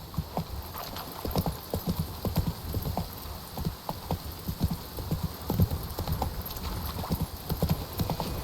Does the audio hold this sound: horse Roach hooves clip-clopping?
yes